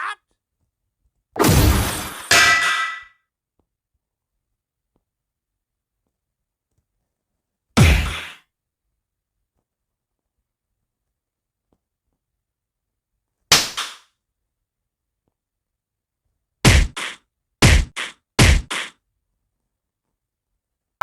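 Punch sound effects added in the CapCut video editor: several sharp, loud impact hits with crisp bright attacks, one longer double burst near the start, then isolated single hits and a quick cluster of four near the end, separated by silence.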